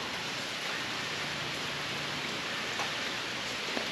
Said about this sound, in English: now the rain has started up